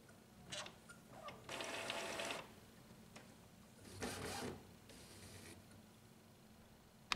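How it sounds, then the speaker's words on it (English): Epson WF-2010 inkjet printer's ink cartridge holder moving to the middle, a faint mechanical whir and sliding in two short bursts with small ticks and clicks, quiet and close. "The ink cartridge holder will move to the middle of the printer."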